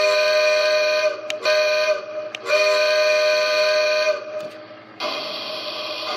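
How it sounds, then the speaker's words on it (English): A Lionel LionChief C&NW steam train set sounds its electronic steam whistle in several loud, sustained blasts, briefly cut off between them, close and clear with no talk. "let's hear some of the sounds, starting with the whistle, which is activated by pressing the whistle button here"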